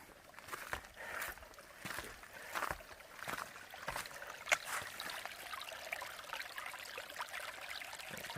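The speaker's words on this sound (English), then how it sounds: "So there's a little water coming out of it compared to everything else" Water trickles from a small, probably blocked pipe at a spring beside a mountain trail, a steady soft stream with light splashing.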